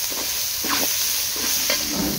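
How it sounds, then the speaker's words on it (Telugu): Ginger being stirred in hot oil in a pan, a steady sizzle broken by several short scraping stirs at irregular intervals, close and moderately loud with no talking. "ఇప్పుడు అల్లం వేసుకుని కలుపుకుందాం"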